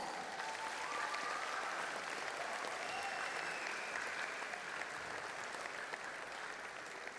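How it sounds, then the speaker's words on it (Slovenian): Steady, dense applause from a school audience for ninth graders at a graduation celebration, sustained and even, with faint crowd murmur and a few whistles underneath. "še en velik aplavz za naše devetošolce"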